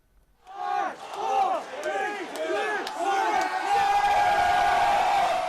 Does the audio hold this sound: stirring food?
no